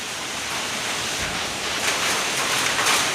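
Heavy rain pours steadily in a monsoon storm, a dense, even hiss of downpour heard up close and alone, with gusts swelling slightly louder toward the end.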